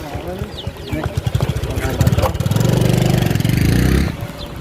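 A motorcycle engine runs near a highway road outside Modhera, Gujarat, its steady idle-like drone swelling for a couple of seconds under loud nearby talk.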